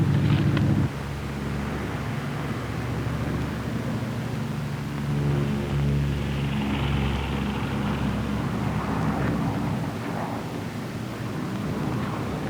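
A World War II P-38 Lightning flies on one engine in archive footage. A steady, low, droning engine hum carries on throughout with faint wind noise, after a brief louder rumble at the start.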